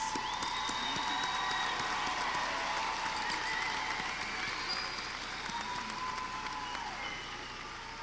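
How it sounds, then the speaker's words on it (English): A large crowd applauds steadily at a university spring commencement ceremony, a dense, even wash of clapping heard from within the audience that carries on for the full stretch and fades slightly near the end. "applause."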